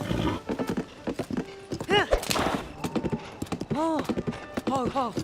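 A black horse galloping in the Zelda Tears of the Kingdom video game, with rhythmic clip-clop hoofbeats and several whinnies and neighs, all under talking voices.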